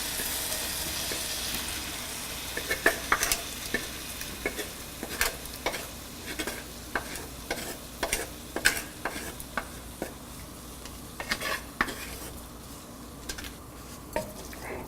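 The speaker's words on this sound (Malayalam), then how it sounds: "നമ്മൾ വേവിച്ചു വച്ചിരിക്കുന്ന ലിവർ ഇതിലോട്ടിട്ട് നന്നായിട്ട് വരട്ടിയെടുക്കുക" Cooked liver is stir-fried with spice powders in a pan, a constant sizzle broken by frequent rhythmic scrapes and clicks of a spatula against the metal.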